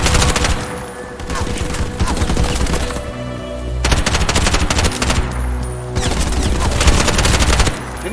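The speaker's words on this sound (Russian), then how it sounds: "вот этот. М416. Он шмалит, а?" Sustained bursts of rapid automatic gunfire from an M416 assault rifle in the shooter game Bright Memory: Infinite, loud and close, with brief pauses between long volleys.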